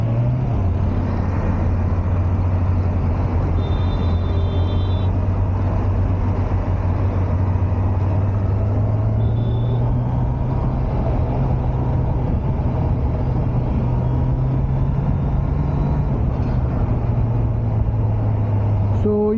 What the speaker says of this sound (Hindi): आज सैटरडे होके भी इतना ट्रैफिक क्यों है